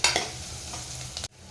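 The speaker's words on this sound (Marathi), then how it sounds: "वाटणसुद्धा छान तेलामध्ये परतून घ्यायचं आहे" Onion and ground masala paste sautéing in oil for a chicken gravy, close-up sizzling with stirring scrapes, steady and loud before cutting off abruptly.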